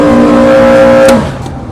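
A water dragster's engine holds a loud, steady droning note at half throttle, close and continuous for about a second before easing off, with no talk over it.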